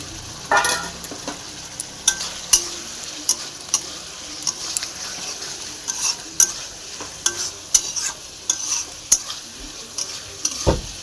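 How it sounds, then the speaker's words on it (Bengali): Fried cauliflower stirred into a spice masala in a pan, with green and dried chilies. A steady sizzle runs underneath while the spoon scrapes the pan in repeated, irregular strokes, close and clear with no talking. "ফুলকপিটা দিয়ে ভালো করে মশলাটাকে মিক্স করে নিতে হবে"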